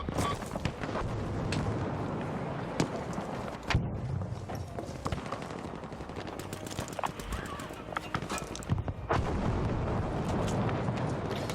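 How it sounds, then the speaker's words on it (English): Artillery barrage in the video game Battlefield 5, dense rumbling explosions and booming impacts layered with gunfire and battlefield noise, heavy and continuous, with a player talking over it. "Why not drop your whole artillery on one guy?"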